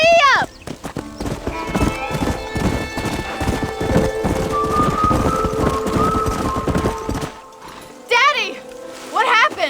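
A horse gallops in Red Dead Redemption, its hooves drumming in a fast steady rhythm up close, with whinnies before and after the run and game dialogue heard.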